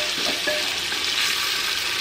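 Onions sizzle and fry steadily in a hot pan while being stirred, a continuous close hiss with faint scraping taps, no talking.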